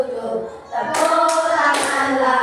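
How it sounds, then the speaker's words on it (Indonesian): Children clap their hands together in a brisk burst of claps during a classroom action song, loud and close, with young voices singing along over the clapping. "Buka tutup, bertepuk tangan"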